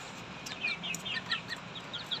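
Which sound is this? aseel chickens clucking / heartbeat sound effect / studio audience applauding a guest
aseel chickens clucking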